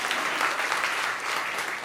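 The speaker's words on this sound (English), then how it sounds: "A clap." A small audience claps at an intimate literary reading, a dense, steady patter of hands that stays even and fairly close throughout.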